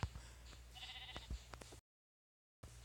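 A sheep in a survival video game lets out a wavering bleat amid light clicks and rustling game sounds, followed by a brief stretch of total silence.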